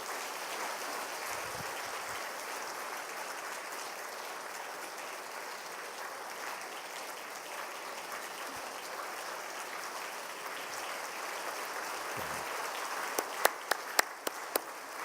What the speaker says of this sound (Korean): 뜨거운 박수로 격려해 주시고 축하해 주시기 바랍니다.